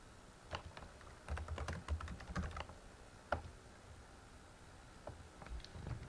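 Typing on a computer keyboard comes in quick, close bursts of light clicks broken by short pauses, with one sharper keystroke standing out, in a quiet room.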